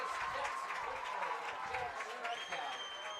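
A crowd at a high school 4A baseball semifinal cheers and claps steadily from a distance, a broad continuous wash of noise with scattered shouts and a faint whistle-like tone near the end.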